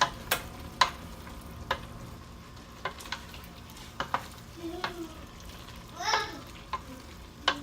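Rice dish ingredients with olives and cilantro sizzling in a pot while being stirred, a low steady fry punctuated by regular sharp spoon taps and scrapes against the pot.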